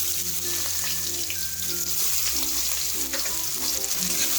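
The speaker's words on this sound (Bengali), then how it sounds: "পেঁয়াজটাকে একটু নাড়িয়ে চাড়িয়ে ভেজে নেব।" Onion fries in hot oil with dried red chillies in a pan, a loud, dense, steady sizzle with stirring scrapes and faint background hum throughout, no voices.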